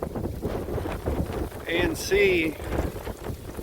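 Wind gusts buffet the microphone at a campsite in Palmetto State Park near Ottine, Texas, a steady low rumble beneath a man's brief speech, with a couple of faint tonal squeaks in the middle.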